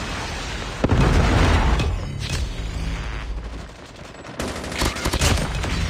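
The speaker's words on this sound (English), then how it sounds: "Predator missile inbound." Predator missile strike in Call of Duty: Mobile ranked multiplayer, a loud booming blast with sustained rumbling gunfire and explosions, then a second burst of fire near the end.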